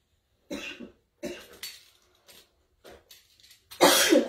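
A woman coughs several times in short, close bursts separated by pauses, ending with a louder, harsher cough.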